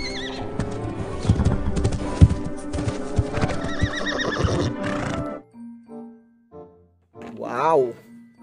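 A horse gives a loud, close, shrill whinny with a quavering, descending whinny, followed by sparse softer sounds and another short rising neigh; people talk over parts of it.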